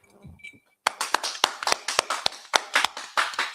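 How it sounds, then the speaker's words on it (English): A congregation claps together during a Sabbath service, the sharp hand claps loud and close in a quick, fairly steady rhythm after a brief near-silent pause. "clap it up"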